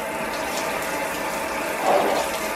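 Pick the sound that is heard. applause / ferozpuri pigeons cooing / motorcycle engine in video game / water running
water running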